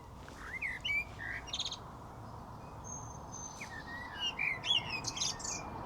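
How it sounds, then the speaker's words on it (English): Bright chirping song of blackbirds on top of an English garden hedge in May, short bursts repeating over a steady outdoor hiss, fairly close, with several calls trading back and forth. "Blackbirds jumping along the top of the hedge now."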